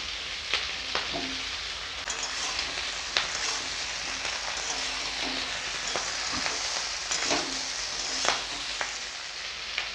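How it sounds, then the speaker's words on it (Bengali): Eggplant goes into a pan of frying potato, onion and tomato, and a dense, steady sizzle runs throughout, broken by occasional soft clicks and scrapes of stirring. "ভালো করে লাড়াচাড়া করে এবারে দিয়ে দিব বেগুন।"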